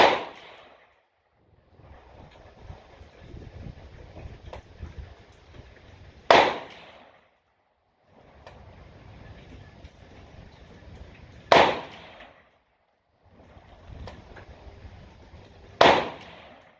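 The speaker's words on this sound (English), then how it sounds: "we'll shoot this group and see how it does" Four sharp rifle shots from a Radical Firearms RF-15 with a match upper firing match ammunition, spaced several seconds apart, each loud and crisp with a short ringing tail over quiet outdoor background noise.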